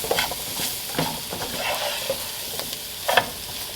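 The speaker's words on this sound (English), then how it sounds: "You want to make sure you soak up all the oil with the flour and stir that around." Flour being stirred into hot frying oil in a pan for a homemade chicken and potato dish, with soft scraping stirs and light sizzling in scattered bursts, close and fairly quiet.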